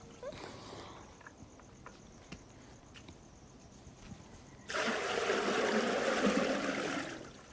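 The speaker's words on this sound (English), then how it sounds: "we'll pour plenty water into the pot." Water poured into a large cooking pot set over a fire starts suddenly partway through as a loud, steady splashing gush that continues to the end, after a quieter stretch of faint outdoor background sound.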